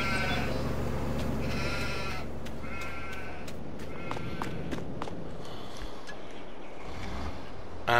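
Sheep bleat several times in Farming Simulator 22 over a steady loud rumble of machinery and footsteps, the calls repeating at irregular intervals with no talking.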